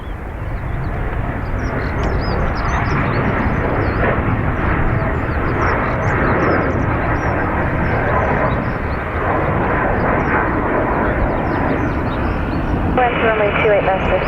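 An airliner arriving at Dublin Airport, a loud, continuous jet roar that fills the scene and holds steady from start to end, with faint crackly chatter riding high above it.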